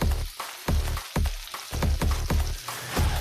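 Stuffed pointed gourd (parwal) frying in oil over a low gas flame, a steady close sizzle broken by repeated sharp crackles and pops, with no talking.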